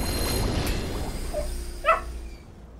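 A puppy gives a couple of brief, high whimpering yips over a steady background hum, short and fairly faint, with no talking.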